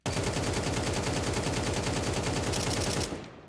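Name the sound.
gunshots while aiming in video game CS2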